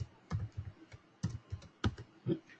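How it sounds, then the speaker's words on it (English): Typing on a computer keyboard during a data-entry demonstration: bursts of quick, close clicking keystrokes in an uneven rhythm, with no voice over them. "here I'm typing America"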